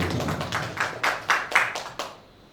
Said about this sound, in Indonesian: Tepuk tangan dulu buat Pak Rianto